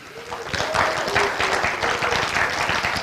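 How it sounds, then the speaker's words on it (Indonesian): A church gathering applauds in answer to a call from the front, clapping swelling after a brief quieter start and then continuing steadily, with some faint voices mixed into the crowd noise. "kita beri tepuk tangan ya"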